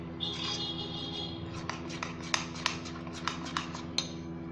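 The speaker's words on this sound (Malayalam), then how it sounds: "ഇനി അല്ലാതെ നമുക്ക് ഇതേപോലെ ഒന്ന് മിക്സ് ചെയ്ത് കൊടുക്കുക." Spoon stirring food colouring into eggless rainbow cake batter in a bowl, soft rubbing and scraping with a few light clinks of metal against the bowl, close and steady.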